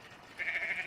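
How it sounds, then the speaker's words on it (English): Sheep bleating in the English countryside of Northamptonshire: one short, faint, wavering bleat over quiet outdoor background, heard from some distance. "The sheep are coming over to see me."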